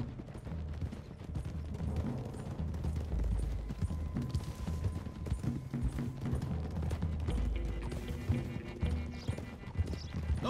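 Horses galloping in Red Dead Redemption 2, a steady clip-clop of hooves with occasional neighs, heard close and continuous over rumbling game ambience and music for the whole stretch.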